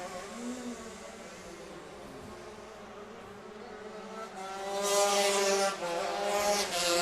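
Stock Honda Heavy class racing karts run on track during a heat race, a faint, buzzing engine drone from a distance, with a brief rise as karts draw nearer toward the end.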